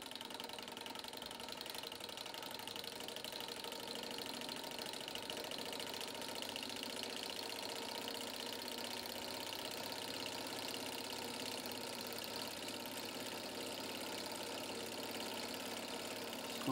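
A Stirling engine spins a window motor with a steady, faint mechanical whir and fine rapid ticking of gears and moving parts, continuous and unaccompanied by speech.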